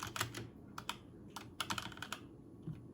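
Typing on a Game KX522 TKL aluminum black edition mechanical gaming keyboard with red switches, a quiet, close run of soft, irregular keystroke clacks in short bursts.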